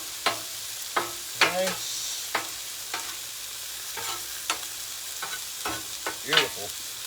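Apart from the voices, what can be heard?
hamburger meat and rice frying and sizzling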